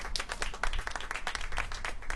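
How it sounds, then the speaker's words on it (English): Clapping from a modest audience at a campaign event for Latina judicial candidates, distinct individual claps in a quick irregular patter, fairly quiet and distant. "Applause for her"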